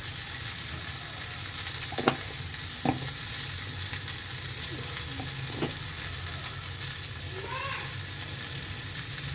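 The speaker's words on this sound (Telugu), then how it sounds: "ఆఫ్టర్ దట్ టమాటాలు మనం కట్ చేసి పెట్టుకున్న టమాటాలు వేసి వేపాలి" Chopped tomatoes and ginger paste fry and sizzle in a pan for curry, a constant close crackle broken by a few clicks and scrapes of stirring, with no voices.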